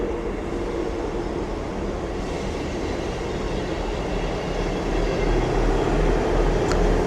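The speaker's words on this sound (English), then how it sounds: "Arriving in now is a terminating Northern Trains 158 from Hull" A Northern Trains class 158 diesel unit rolls into Doncaster station, a steady low rumble with faint wheel clatter and hum, growing slightly louder toward the end with a brief squeal.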